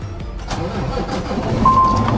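A Peterbilt 389 long-nose truck's engine cranks and catches during winter trucking, a close, loud rumbling start that settles into a steady low idle.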